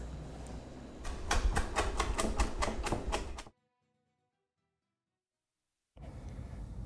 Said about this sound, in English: I'm going to dice up onions, chop cilantro, and wash some romaine lettuce.